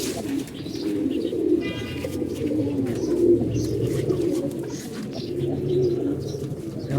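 Small pigeons cooing continuously at close range, a dense, layered murmur of low throaty coos with faint chirps above, steady and fairly loud with no speech.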